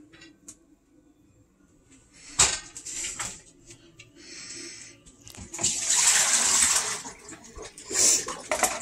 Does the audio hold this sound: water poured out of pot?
yes